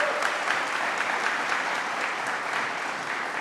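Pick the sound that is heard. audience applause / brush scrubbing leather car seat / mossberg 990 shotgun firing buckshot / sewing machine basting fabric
audience applause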